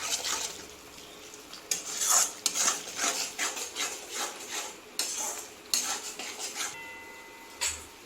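A spoon scrapes and stirs a thick spice paste of cashews, raisins and yogurt in a pan over low gas, with repeated close scraping strokes against the metal and a faint sizzle underneath.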